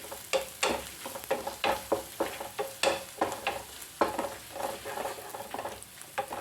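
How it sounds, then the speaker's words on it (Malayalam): Prawns fry with onion in a pan for a kovakka and prawn thoran. A spatula scrapes and tosses them in repeated close strokes over a continuous sizzle. "ചെമ്മീൻ ചെറുതായിട്ടൊന്ന് ഫ്രൈ ആയി വരണം കേട്ടോ."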